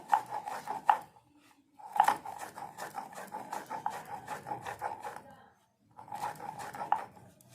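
Amla (Indian gooseberry) being crushed by hand for pickle, a steady run of rough rubbing and grinding strokes in rhythmic bursts with a brief pause, close up.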